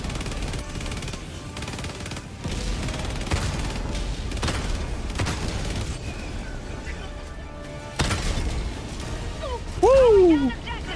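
A cannon turret in the video game Helldivers 2 fires repeated heavy, booming shots that run steadily through a noisy firefight, with a brief louder burst near the end.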